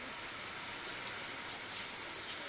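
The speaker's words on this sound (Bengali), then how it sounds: "আজকে সারাদিনই যা দেখলাম বৃষ্টি আছে" Heavy monsoon rain during a low-pressure storm makes a steady, soft, even hiss, fairly faint and continuous, with no voices.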